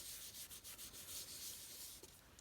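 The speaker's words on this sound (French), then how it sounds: "On superpose les couches. On frotte." Cloth rubbing over layered paint, a steady broadband swishing scrub with rhythmic strokes, close and continuous, no voices.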